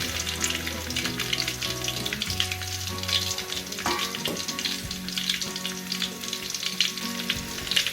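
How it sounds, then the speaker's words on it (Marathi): Garlic frying in hot oil in a pan over a wood-fired clay stove, a steady crackling sizzle with bright spattering, running continuously alongside low tonal hum and clatter, no talking. "तेल टाकून घेऊया तेल तापलंय लसूण टाकून घेऊया"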